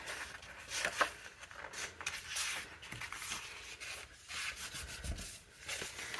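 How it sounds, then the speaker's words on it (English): Scored paper is folded and creased by hand for a mini album, giving soft, close rubbing and brushing sounds with small crinkles and taps, quiet and irregular, without any talk. "we are going to fold this score line this way"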